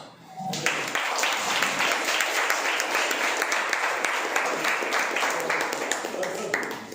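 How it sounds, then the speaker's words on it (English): Audience applause at a career guidance seminar, a dense sustained wash of many hands clapping that starts after a brief pause and continues steadily to the end, with faint voices underneath. "give a clap"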